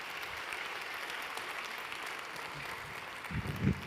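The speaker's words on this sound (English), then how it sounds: "Alkışlarınızla sahneye davet ediyorum Şef Nikolaj Elitsgaard." An audience at a gastronomy conference applauds steadily as a chef is welcomed on stage, a continuous wash of clapping with a brief louder burst near the end.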